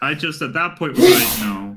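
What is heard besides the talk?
sneeze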